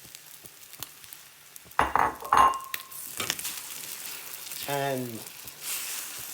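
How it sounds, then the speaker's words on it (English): A single large egg dropped into hot beef fat in a pan gives a soft sizzle, with clatter and bursts of handling noise and a brief spoken word partway through. "we're gonna add the one single solitary large egg to the pan"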